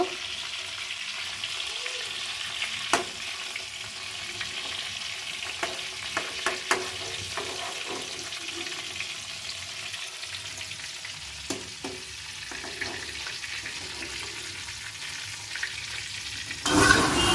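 Steady oil sizzle of cauliflower frying in a pan, with a few sharp clicks and scrapes of a utensil stirring, no talking.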